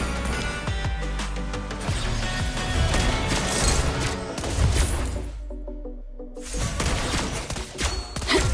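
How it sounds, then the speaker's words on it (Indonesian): Rapid gunfire from Lesley's sniper shots in the Mobile Legends mobile game, dense bursts over game music and effects, with a short quiet gap before the action resumes. "Tidak ada satupun tembakan yang meleset."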